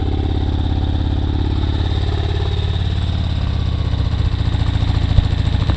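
A 1973 BMW motorcycle engine, misfiring on one cylinder, idles roughly with an uneven, stumbling beat, loud and close, running steadily without any speech.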